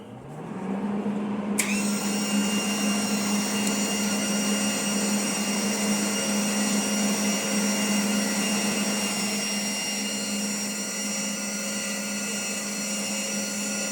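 A Hobart Handler 140 MIG welder powers on and hums steadily, with a continuous whirring drone from the motor and wire feed that holds even and loud throughout, with no talking.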